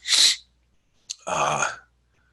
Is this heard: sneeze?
yes